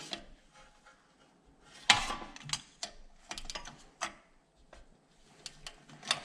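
Bolts on a John Deere X585 lawn tractor are tightened with a ratchet, giving close, sparse clicks and metallic clanks with short pauses between them in a quiet setting.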